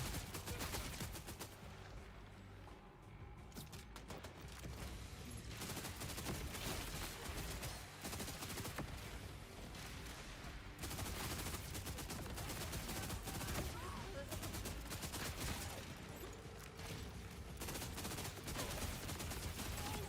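Rapid sustained automatic gunfire from a Gatling gun in the looter-shooter game Borderlands 4, loud and nearly continuous with brief pauses between bursts, layered with game effects throughout.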